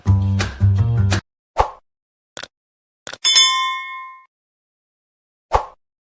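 A bright bell-like notification ding rings out and decays slowly, set among a quick series of short plopping, knocking sound-effect hits, with no talking.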